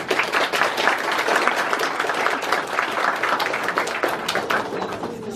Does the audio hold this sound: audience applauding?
yes